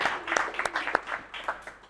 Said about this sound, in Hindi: एक बार जोरदार तालियां आप सभी लोग बजा दें।